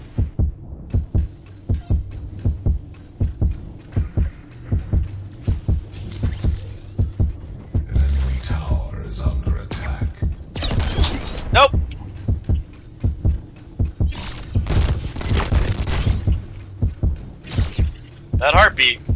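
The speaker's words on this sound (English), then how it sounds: "That heartbeat." A heartbeat pulses in the video game Paragon, a steady low double thump repeating throughout, loud and close, with game effects and a person talking over it.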